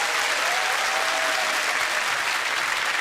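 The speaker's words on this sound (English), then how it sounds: "Give yourselves a round of applause." Studio audience at a BBC game show giving a sustained round of applause, a dense, loud, even roar of many hands clapping with no break and no talk over it.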